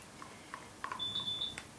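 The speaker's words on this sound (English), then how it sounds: "And there's my timer." A timer beeps in a resin-art workshop: a few short soft bleeps, then one longer high electronic tone, faint and alone.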